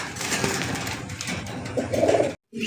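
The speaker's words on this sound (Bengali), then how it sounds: "1 পিস ইন্দোনেশিয়ান মুন্ডিয়ান কবুতরের বেবি, বর্তমান সময়ের জনপ্রিয় কবুতর" Fancy Indonesian Mundian pigeons coo close by in soft, repeated throaty calls over a busy background hum, with a brief drop-out near the end.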